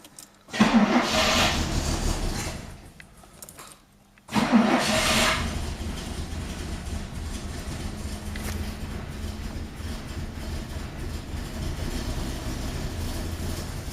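A Fiat 130 cranks and catches on full choke, with two bursts of starter churning before the engine fires and settles into a steady, rough idle that continues alone and close.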